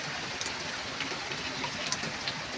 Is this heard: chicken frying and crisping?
no